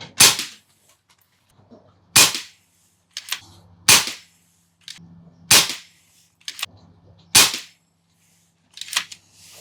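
An FX Impact M4 air rifle fires a five-shot group, six sharp cracks spaced a second or two apart, each with a quick pellet thud, close and loud against near silence.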